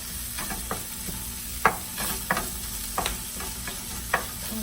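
Chorizo frying in a pan gives a steady close sizzle, broken by occasional scrapes and taps of a utensil stirring it, with no voices.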